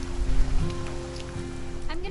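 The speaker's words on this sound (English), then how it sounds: "It's gonna rain the whole weekend, isn't it?" Steady rain falls in the video game What Remains of Edith Finch, a continuous soft hiss with a few louder patters, faint voices or tones drifting beneath it.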